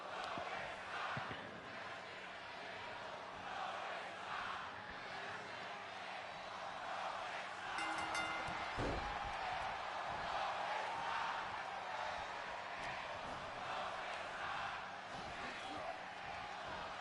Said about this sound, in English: They were just chanting something there that sounded like a dueling chant type stuff.